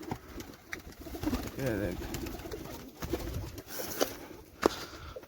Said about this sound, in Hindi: ये देखें हमारे कबूतर माशाल्लाह।